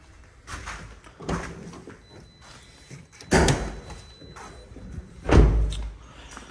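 Several heavy thumps and clunks of Toyota Corolla GLI car doors, jammed and not opening properly, being pulled and shut, spaced a couple of seconds apart, with quieter rattling in between.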